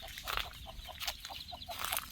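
Chickens in a rural setting give soft, repeated clucks in quick irregular bursts, fairly faint and nearby with no talking.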